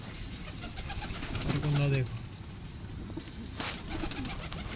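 Punjabi Malwai pigeons coo in a short, fairly loud burst over steady background noise, with someone speaking briefly around it.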